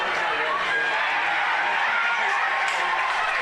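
Continuous roar of a large crowd cheering and shouting at a rain-soaked women's Australian football grand final between the Nightcliff Tigers and the Razorbacks, steady and dense throughout with no breaks.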